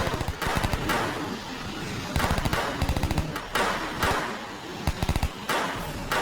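Bursts of rapid automatic gunfire crackle in a zombie film scene, several clustered volleys of sharp shots separated by short pauses, loud and close.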